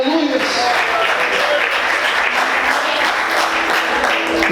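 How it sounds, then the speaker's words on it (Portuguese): A church congregation claps in sustained, dense applause filling the whole stretch, loud and close, with voices mixed in beneath. "Você pode aplaudir o Senhor."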